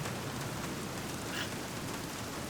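Steady rain pours in The Black Mirror video game, a continuous even hiss of falling water with no voices.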